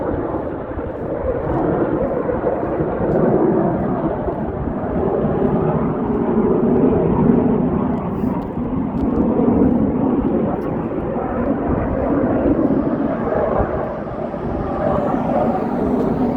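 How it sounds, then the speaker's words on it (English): A low, rumbling drone of an airplane passing overhead, steady and broad, with no voices, sustained throughout. "Plane overhead."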